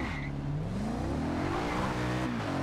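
An Audi RS7 Black Edition sedan with quattro all-wheel drive, driven in Forza Horizon 2, roars loudly and steadily, its engine pitch climbing and shifting as it accelerates, with no talk over it.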